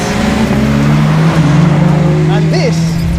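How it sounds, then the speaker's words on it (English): A 2022 Honda Civic Si, the 11th-generation model, drives with a steady, fairly loud engine drone and a brief voice over it near the end. "this is the new 11th generation Civic Si"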